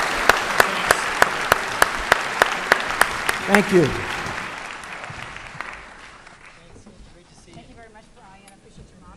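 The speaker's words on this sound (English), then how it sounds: "I would like to ask all of you in joining me in a round of applause for these distinguished guests." An audience at a defence conference panel breaks into applause for distinguished guests, steady claps over a sharp, regular tapping beat that fades out as a voice speaks over the tail.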